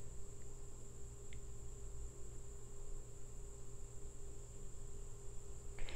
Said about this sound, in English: They're getting crickets, okay? Backyard noise.